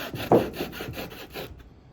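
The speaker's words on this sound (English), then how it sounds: "this is really easy to just do it with a hacksaw" A hacksaw cuts through foam for thrifty hardware-kit bumpers, giving about six quick rasping back-and-forth strokes, close and moderately loud, then stopping short.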